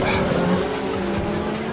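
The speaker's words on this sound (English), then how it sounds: "Boom, boom, boom, the cars go." Race cars at speed in a racing video game on the Surfers Paradise street circuit, engines roaring and whining together in a loud, continuous rush with brief tire noise.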